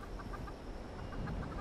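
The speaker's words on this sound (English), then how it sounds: "Oh, a chicken." A chicken clucks in Fallout 76, with a few soft, short clucks repeating at a moderate distance over a low, steady outdoor ambience.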